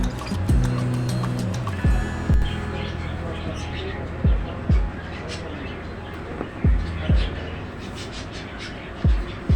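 Tomato masala being stirred and sautéed in a pan, with a spoon scraping and clacking against the metal at irregular intervals over a soft sizzle.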